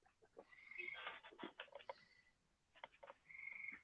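Several wild frogs calling in bursts of rapid trilling croaks, with a pause between the first cluster and a later run, moderately near and fairly faint.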